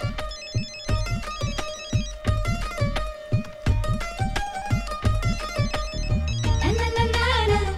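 A phone ringtone plays loud and close, a rhythmic melodic electronic ring repeating steadily, then shifting into a warbling tone near the end.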